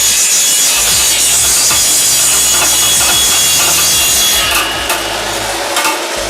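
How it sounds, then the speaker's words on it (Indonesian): Electric bamboo cutting machine running with a harsh, continuous rasping saw noise on wood, loud and close, easing slightly near the end. "Nah, yang ini mesin pemotong."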